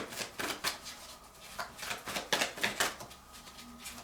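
Tarot cards are shuffled by hand in a series of quick riffling and flicking bursts, close and fairly quiet, with no one speaking.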